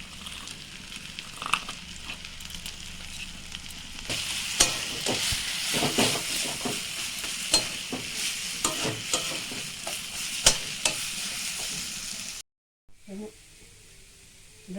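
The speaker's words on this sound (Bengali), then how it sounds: "এবার এর মধ্যে মুসুর ডাল বাটাটা দিয়ে দিলাম।" Red lentil paste, mixed with salt and turmeric, fries in a pan with ginger-garlic paste under a steady sizzle, while a spoon scrapes and stirs in repeated knocks; the sizzle drops out abruptly near the end, leaving quieter handling sounds.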